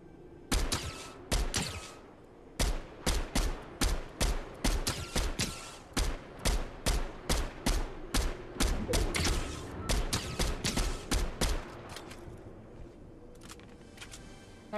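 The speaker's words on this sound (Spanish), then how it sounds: "Escucho disparos" Rapid bursts of gunfire in a Fortnite match, dozens of sharp shots in quick irregular volleys with brief pauses, loud and close, thinning out toward the end.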